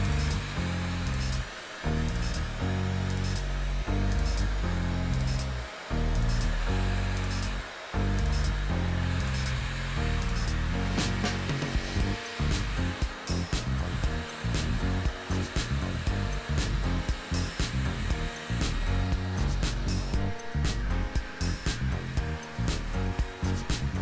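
A hair dryer blows continuously while hair is styled on a round brush for extra volume, a loud, close, steady whooshing roar with slight fluctuations and no speech.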